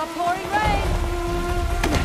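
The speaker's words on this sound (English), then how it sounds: "through the pouring rain that we're running through." Steady rain pours down in a continuous wash of noise in the video game Uncharted: The Lost Legacy, with a few tonal game-like sounds and a voice over it.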